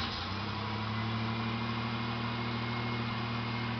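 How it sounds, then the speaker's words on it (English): A 1987 Buick Grand National engine settles into a steady low idle, a constant deep hum that stays even and moderately loud throughout, with no talking. "Digital dash, I'll start the car up."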